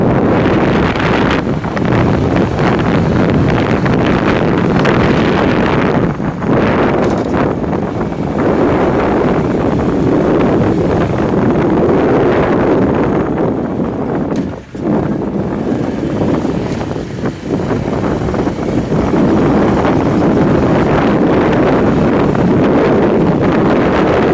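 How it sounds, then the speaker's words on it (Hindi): Strong wind blowing outdoors, buffeting the microphone in loud, continuous gusts with brief lulls throughout. "हवा चलना शुरू हो गई है"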